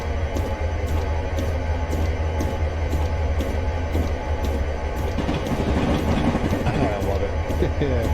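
A freight train crosses a rail diamond in Train Simulator 2022 on the Rio Grande line near Salt Lake City, with a deep rolling rumble under a steady run of rhythmic wheel clacks.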